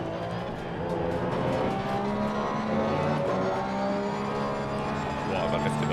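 A Porsche race car runs on track at Zolder circuit, its engine droning with steady harmonic tones and shifting revs throughout, heard from the cabin and fairly constant in level.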